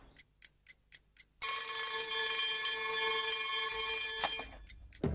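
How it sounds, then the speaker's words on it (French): A loud, continuous alarm clock bell rings right up close for about three seconds, after a few soft rhythmic ticks, then stops abruptly and leaves a brief ringing tail. "Est-ce que tu as un réveil?"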